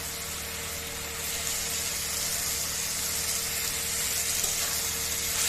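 Boiled spices fry and get stirred in a pan with boiled banana flower, giving a continuous, moderately quiet sizzle with a soft steady hiss and faint scraping throughout.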